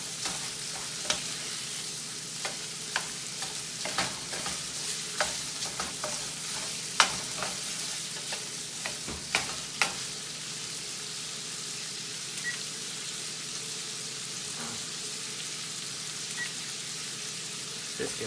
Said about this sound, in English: because this is sausage, you do have to thoroughly cook it.